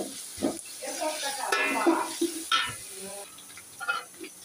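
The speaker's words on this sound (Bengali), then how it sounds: "পেঁয়াজটা ভাজা হয়ে গেছে" Onions fry in hot oil in a pot with cardamom, cinnamon and bay leaves, a close sizzle broken by stirring scrapes and clatter.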